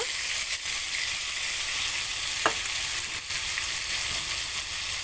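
Boiled yardlong beans stir-fried in a pan for a Chinese vegetable dish give a steady, close, loud sizzle with one brief scrape partway through, with no voices.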